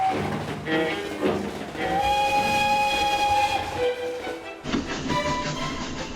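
A model train built from junk mail, styled after a 1930s night mail, gathers speed in a workshop lab, with a loud steam-whistle tone sounding over a steady rumbling run, then a brief pause and a second whistle.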